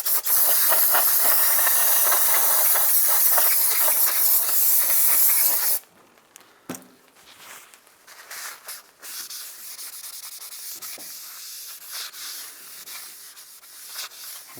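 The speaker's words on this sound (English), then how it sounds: "we're going to clean the back of our rotor now with some brake clean" Brake cleaner sprays in a loud, continuous hiss across the back of a brake rotor on a 2007-2015 Mazda CX-9 for about six seconds. Quieter scraping and handling noises follow.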